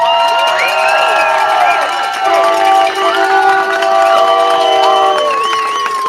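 A large crowd at the finish of the World's Toughest Row Atlantic race cheers and screams continuously, with high whoops and shrieks rising above the roar for several seconds.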